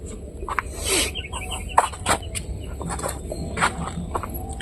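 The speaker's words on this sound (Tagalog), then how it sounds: "May mga tingog ng tilaok ng manok." Chickens cluck and squawk amid a busy outdoor barnyard din, with scattered sharp bird calls and shuffling footsteps.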